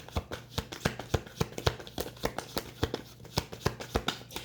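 Tarot cards being handled and shuffled, a close series of crisp riffling snaps and taps in an irregular rhythm, quiet and without talk.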